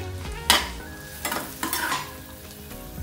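Onion and half a teaspoon of cumin frying in melted butter for a potato sandwich filling, a close steady sizzle with a few sharp stirring scrapes, no talking.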